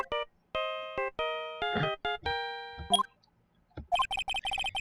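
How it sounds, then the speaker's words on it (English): Phone ringtone in the video game Phoenix Wright: Ace Attorney playing the Steel Samurai theme as a bright, beeping electronic melody of short tones, followed by a faster burst of chirpy notes, loud and close with no talking. "I know that song your phone plays when it rings."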